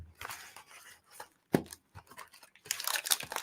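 Someone tears open the wrapper of a truffle candy box close up, with uneven papery rips and crinkles coming in bursts, including one sharp pull and a louder, longer crinkling tear at the end.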